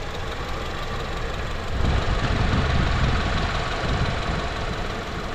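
A 2018 BMW X1 xDrive28i with its twin-turbo engine idling, a steady low mechanical hum that swells slightly louder partway through, running alone without voices.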